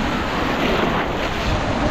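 Strong sea waves crash and surge steadily at a beach in Maniwaya, Marinduque, a loud, continuous roar of surf mixed with wind buffeting the microphone, with no voices.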